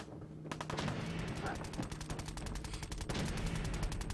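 Rapid automatic gunfire from the Fallout 4 video game, dense bursts of shots rattling continuously and loudly through the whole stretch, with faint game sounds underneath.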